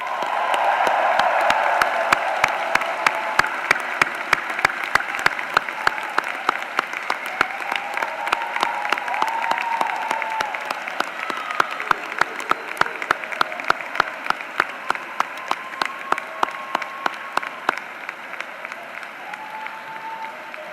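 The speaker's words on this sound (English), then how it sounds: "Graduates, please show them your appreciation with resounding applause." Sustained applause from graduates at the UCF spring commencement ceremony, a dense steady roar of clapping across a large hall lasting the whole stretch, with sharp individual claps standing out near the end as it thins.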